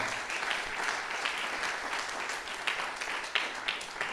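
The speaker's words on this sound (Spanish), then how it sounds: "Dele un aplauso al Señor" A church congregation at a Spanish-language service gives a steady round of applause, dense and continuous from start to finish with no talking over it.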